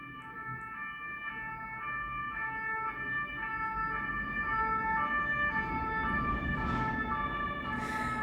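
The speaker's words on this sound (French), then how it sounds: "Donc on va laisser passer la sirène." An ambulance siren wails continuously with a rising and falling two-tone pattern over road traffic, steady and fairly loud, with no talking.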